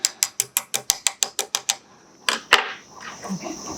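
Prying packed debris out of a Traxxas Rustler RC car control arm produces a fast run of about ten sharp ratchet-like clicks, followed after a pause by a couple of louder scraping snaps, close and clear with no talk.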